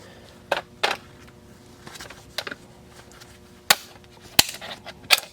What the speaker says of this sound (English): Let's see if we can shear this sucker off from the backside.